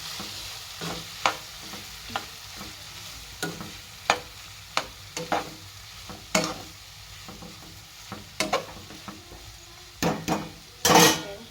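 A spoon stirs and mixes an avarekalu field bean dish with rice in a sizzling pan, with irregular scraping clinks against the metal over a low, steady frying hiss, close by and without talk.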